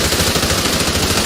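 Call of Duty video game gunfire in a short, dense burst of rapid automatic shots, loud and continuous, with no voices.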